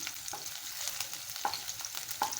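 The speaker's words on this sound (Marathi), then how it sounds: "आता व्यवस्थित आपण या मिरच्या आता भाजून घेऊया" Green chillies fry in hot oil in a pan, a steady close sizzle with a few sharp pops and spatters over a short stretch, and no one talks.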